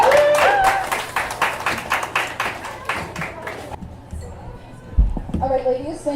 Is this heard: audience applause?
yes